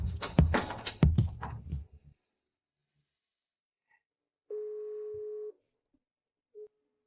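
A telephone ringing tone sounds during an outgoing call: one clean electronic tone held for about a second after a burst of other sound, then a brief short beep in otherwise near silence.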